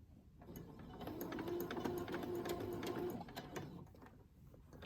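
A sewing machine stitches a seam in fabric for a winter journal cover, running in one steady, continuous burst for about two seconds, with quieter mechanical whirring before and after.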